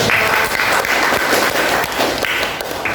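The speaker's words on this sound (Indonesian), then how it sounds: "Tepuk tangan buat Mbak." A classroom of students bursts into sustained applause for a classmate after a geography answer, the clapping dense and loud throughout with a few faint voices mixed in.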